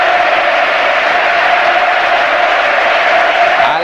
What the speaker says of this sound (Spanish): La ovación cerrada para Fernando Hierro